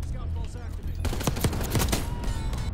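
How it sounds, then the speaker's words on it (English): Rapid gunfire from the vault weapon in the video game Black Ops 6, a dense burst of sharp automatic shots that starts after a second and rattles on loudly to the end over a noisy background with some voices. "Oh, this is the vault gun."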